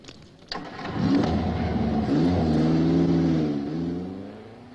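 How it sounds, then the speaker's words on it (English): Morgan sports car driving, the engine swelling quickly from a sharp start into a steady mid-pitched drone with shifting revs, then easing off toward the end. "And that car, of course, is the hopeless, harsh-riding, old-fashioned and peerlessly magnificent Morgan."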